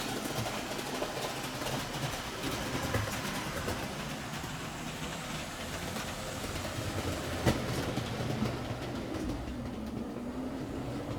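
A model railway train starts up and rolls steadily along its track, a continuous close whirring rumble with faint rhythmic clicking and a single small knock partway through, no speech.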